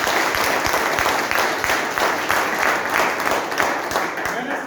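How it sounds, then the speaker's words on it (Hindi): An audience at an RCM business seminar breaks into sustained applause, a dense, rhythmic clatter of many hands clapping together throughout, fairly loud and close. "एक बार तालियां बजा दो।"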